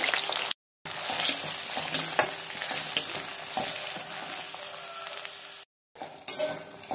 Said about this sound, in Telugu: ఇది ఆయిల్ వేడెక్కింది, ముక్కలు వేసేసుకుంటాను ఇందులో నేను.